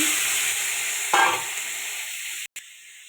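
Chicken pieces fry in butter in a kadai for momo filling, a broad close sizzle with a short stirring scrape midway and a sharp clatter near the end, no voices.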